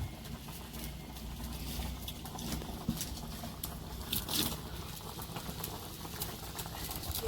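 A pot of thin bata fish curry broth with gandhal leaves boils steadily, giving a close, continuous bubbling patter with small pops and no talking.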